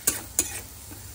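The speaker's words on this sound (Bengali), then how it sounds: "দিয়ে এবার এইটা একটু নেড়ে নেব, বেশি না, একটু অল্প করে নেড়ে নিয়ে তাতে" Ground spices and egg stirred in a pan, with three crisp spatula scrapes against the pan over a faint sizzle, no talking.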